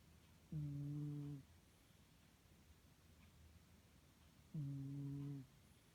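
Close, soft snoring from a sleeping cat indoors, two drawn-out tonal breaths a few seconds apart with near silence between them.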